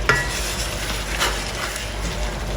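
Kpomo (cow skin) frying in a pot for a spicy Nigerian native stew: a continuous loud sizzle with a few brief stirring scrapes, close by, no talking.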